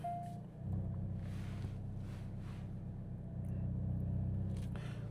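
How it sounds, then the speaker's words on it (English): A manual car's engine idles and revs with a steady low rumble, close by, rising slightly toward the end as the car is restarted and eased forward. "So I need to restart the car again here."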